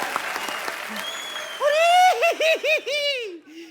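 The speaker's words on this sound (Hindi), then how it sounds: "जोरदार तालियां।" A studio audience at a Hindi comedy talk show bursts into applause, first loud clapping and then a short sung phrase over it with laughter, while a host's voice carries on in between.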